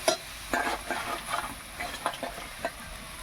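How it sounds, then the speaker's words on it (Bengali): Boiled jujubes for pickle being stirred and turned in a pan, giving a series of soft, irregular scraping and wet shuffling strokes close by, with no voices. "কুলটা বেশ ভালো করে নাড়াচাড়া করে দেখুন অনেকটা কুলটা সেদ্ধ হয়ে এসছে"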